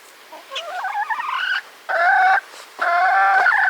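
Close chickens cluck and croon in three short bursts, warbling tones broken by brief pauses, with no voices.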